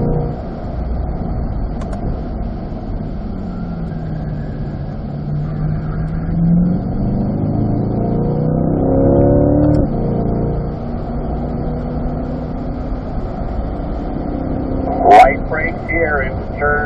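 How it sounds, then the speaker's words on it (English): A Corvette accelerates briskly on the Spring Mountain race track, its steady engine drone rising in pitch over several seconds beneath continuous talk, with a brief sharper burst near the end. "then accelerating briskly out to the middle of the road as we crest the hill in the center"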